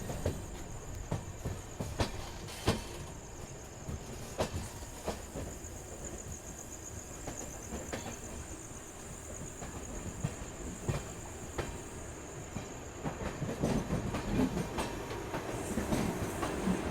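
Netaji Express rolling past the maintenance pit lines at Chandigarh station, with steady clickety-clack of wheels over rail joints, periodic sharp knocks and a continuous hiss, heard close from on board.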